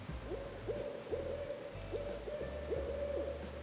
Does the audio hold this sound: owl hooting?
yes